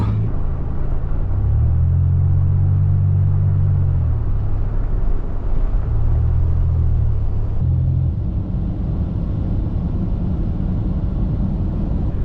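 A car drifting lightly on an Alaska road, with a loud, close engine drone and low tire rumble. The engine pitch rises and falls in a few sustained swells over steady road noise, with no voices.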